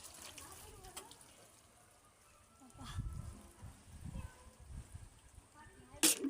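Water splashing and running over a motorbike as it is washed, intermittent gushes, with someone talking at times.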